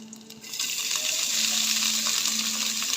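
Chicken frying in desi ghee gives a steady, bright, close sizzle that swells after a quiet start and then holds constant, with no talking.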